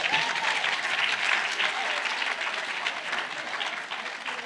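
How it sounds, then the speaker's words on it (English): An audience gives a round of applause at an information evening, dense close clapping that holds steady and then gradually thins, with no one talking over it. "Let's give him a round of applause."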